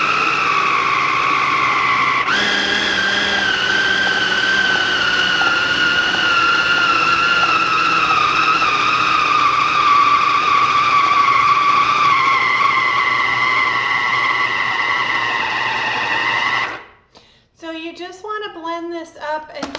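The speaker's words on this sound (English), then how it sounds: "So we're going to blend this up." An electric blender runs loud and steady for about seventeen seconds, its motor whining as it mixes keto bread dough for hot dog buns, then cuts off, leaving brief quieter clatter at the end.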